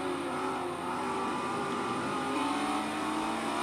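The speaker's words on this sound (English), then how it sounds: "Venton pulls away, and Konizek pulls away, but I'm still within their range." A Ferrari 360 Modena race car engine revs hard in Forza Motorsport 4 at Circuit de Barcelona-Catalunya, a loud, steady, continuous engine roar throughout.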